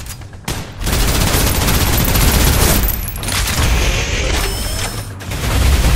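Sustained automatic gunfire from the video game SnowBreak: Containment Zone, loud and dense bursts of rapid shots rolling almost continuously for several seconds, with a brief gap early on and heavy booming low end.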